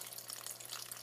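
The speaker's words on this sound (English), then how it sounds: "So I've got it in a bowl of water here, and I'm just going to plug in the pump." A small electric pump runs in a bowl of water for an aquarium waterfall setup, giving a steady, close hiss of splashing and trickling water with a faint low hum beneath and no speech.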